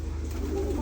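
Racing pigeons cooing close by in a short burst, a soft low throaty bubbling over steady background hum.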